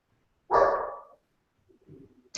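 A single loud dog bark rings out close by in a quiet room, followed by a softer, muffled second sound a moment later.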